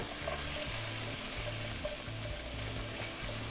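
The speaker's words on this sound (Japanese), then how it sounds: "にんにくオイルとですねベーコンの香りを玉ねぎに移しながら炒めて" Onions stir-frying in garlic oil with bacon, a close, dense sizzle that runs without a break under a faint, rhythmic background beat, with no talk.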